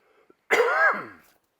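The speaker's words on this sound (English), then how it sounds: "Sorry, I'm coughing." A single harsh cough bursts out near the mic, lasting under a second with a rough, throaty tone, preceded by a brief faint click.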